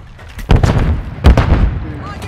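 Heavy booms of grenade explosions mixed with gunfire in the shooter Call of Duty: Modern Warfare 3, two loud blasts about a second apart, each rumbling and decaying, with voices shouting faintly beneath.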